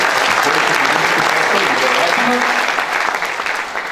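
A hall audience at a city-day award ceremony breaks into sustained applause, a loud, dense wash of clapping that holds steady and then slowly thins toward the end.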